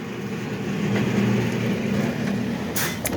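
A tractor engine on a dairy farm on a warm spring day drones with a steady low hum at a moderate distance, alone, with a brief higher rattle near the end.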